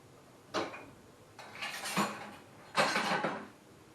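A spoon clinks and scrapes against dishes in a kitchen while a cheesecake dessert is made, three separate clattering bursts at moderate volume with quiet gaps between, no talking.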